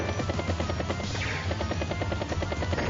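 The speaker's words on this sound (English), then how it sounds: "There's a lot of battlecopters" Battlecopter helicopters from Advance Wars: Days of Ruin give a steady, rapid rotor chop, loud and continuous with an even rhythm.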